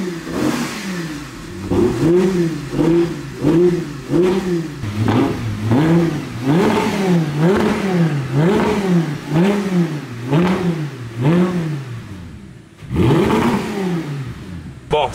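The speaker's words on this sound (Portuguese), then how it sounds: "Dá uma aceleradinha aqui pra vocês verem, ó." An Audi R8 engine revs repeatedly in a steady series of throttle blips, each rising and falling in pitch, loud and close, with a short pause before a final stronger rev.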